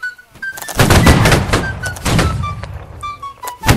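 Musket line volley fire in the Holdfast video game, with several loud cracking shots bunched in a ragged burst, then scattered later reports and faint distant crackle.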